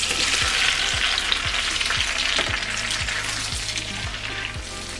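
Vegetables sizzling loudly in a hot pan for a chicken stir-fry, a dense steady hiss close up, with regular scraping stirs about twice a second and no talking.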